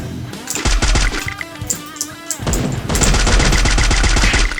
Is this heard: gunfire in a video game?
yes